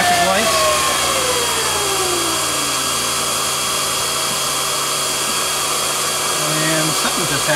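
Bitmain Antminer S9 cryptocurrency miner fans whir steadily and loud throughout, with a rising tonal sweep as they spin up and a faint shift near the end.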